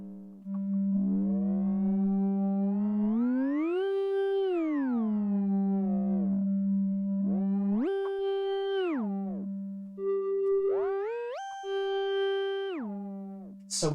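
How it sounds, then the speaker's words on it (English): Pure synthesized sine-wave tones from an Arturia MiniFreak synthesizer glide up and down in pitch, holding steady plateaus between sweeps, with bright harmonics swelling in and out; loud and continuous, no voices. "we can hear that there are sine waves and something is happening with respect to the harmonics"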